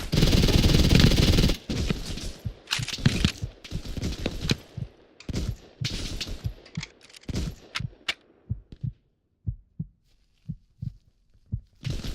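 Machine gun fire in the Hell Let Loose video game: a loud, sustained automatic burst gives way to irregular shorter bursts, then thins to sparse, isolated shots near the end.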